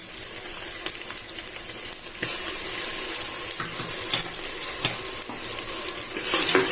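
Ginger garlic paste stirred into browning onions in a hot pan gives a loud, continuous sizzle, with scattered clinks and scrapes of the spoon up close and no speech.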